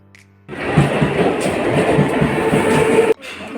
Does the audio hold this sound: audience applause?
no